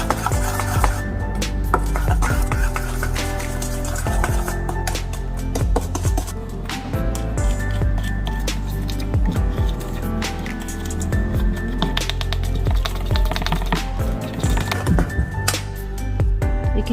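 Flour, baking soda and baking powder being mixed into a mint cashew biscuit dough, giving steady squishing and rubbing with occasional light clinks against the bowl, continuous and close for the whole stretch.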